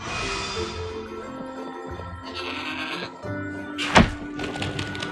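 In the video game Trine 4, a goat bleats amid music and game sounds on a snowy mountain path where an avalanche has destroyed a bridge. A single sharp thump lands midway, and no one talks.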